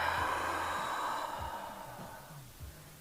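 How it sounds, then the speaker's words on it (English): A long, steady exhale during a guided breathing exercise at a beachside park, a soft airy rush that fades over a few seconds with faint low background rumble and no talking. "Exhaling, looking down."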